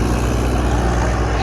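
Tractor engine driving off in a rural village setting, a loud steady low rumble with constant throbbing pulses running unbroken throughout.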